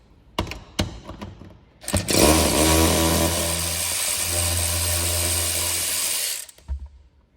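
Seat bolts on a Chevy Colorado or GMC Canyon driver seat are loosened with a T50 Torx bit, giving a few short clicks and then a sustained loud mechanical whirring grind for about four seconds, followed by a brief rattle.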